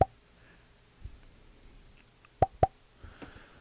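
Cartoon pop sound effects placed on a 2D animation of a circle and text, heard as a few short, crisp plops, one at the start and a quick pair near the middle, with soft faint clicks between them.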